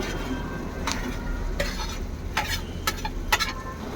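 Potatoes and beans tipped into a hot frying pan bring a low sizzle and a few sharp clinks and scrapes of a spoon against metal, close by over a steady background hum, with no talking.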